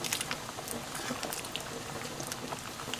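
Cabbage leaf and potato simmering in a pot of boiling water, a steady close bubbling and popping patter that runs on evenly with small sharp bursts throughout.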